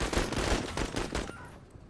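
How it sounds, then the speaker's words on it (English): Video game gunfire: rapid automatic bursts, loud and close, rattling steadily for over a second before cutting off into quiet. "Come here and shoot them at close range"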